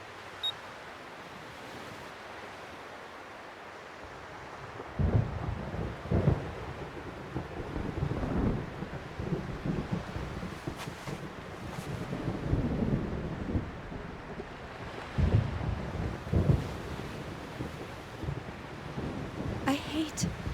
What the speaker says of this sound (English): I hate thunder.